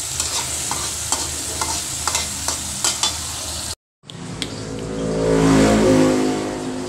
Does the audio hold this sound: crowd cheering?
no